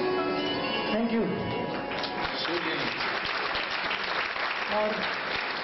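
A group yoga asana demonstration for International Day of Yoga 2016, with an audience applauding: steady, dense clapping runs through the whole stretch while a voice speaks over it.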